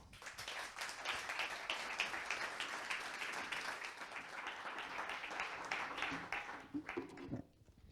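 An audience at a business forum on artificial intelligence in Vigo applauds, a steady, even wash of many hands clapping, fairly distant and quiet, that tapers off in the final second.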